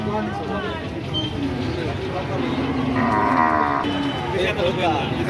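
Cattle moo loudly and repeatedly at a busy cattle market in Talgachhi, Shahjadpur, Sirajganj, several long drawn-out calls rising over a constant din of crowd noise and voices.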